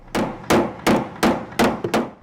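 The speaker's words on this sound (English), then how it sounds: "They've got hammers," Hammers strike during a middle school renovation, six loud, sharp blows landing in a fairly steady rhythm up close, each ringing briefly before the next.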